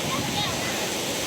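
Mohini waterfall at Kulekhani roaring as a dense, constant broadband rush of falling water nearby, with a voice talking over it.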